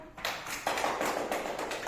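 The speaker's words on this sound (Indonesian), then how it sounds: "Tepuk tangan dulu untuk kelompok 3." Classmates applauding a student group after a presentation, a brief burst of scattered hand claps in a room that builds quickly and stays fairly even.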